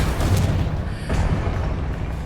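Confringo fire spell explosion in Hogwarts Legacy, a loud rumbling blast with a deep boom that rolls on and decays over a couple of seconds.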